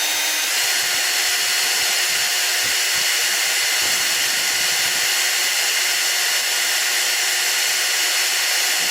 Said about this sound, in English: You don't have to go real fast because you want to hear it cut. Kind of hear it grinding and cutting.